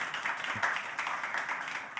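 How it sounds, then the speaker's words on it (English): Audience applause fills a full room at a startup demo day, a dense, steady wash of many hands clapping for the whole stretch, moderately loud and without pause. "Applause for Zani, please."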